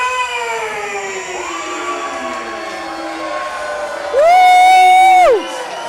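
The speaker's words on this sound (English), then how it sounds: "The crowd letting their feelings be known on Trent O'Day." A crowd at a live wrestling show roars and cheers loudly after a submission finish, with sustained whistles and whoops rising to a piercing peak near the end.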